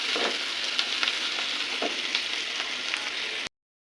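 Onions frying in a pan for a home-cooked rice meal give off a steady, close sizzle with small crackles throughout, then break off abruptly near the end before resuming briefly.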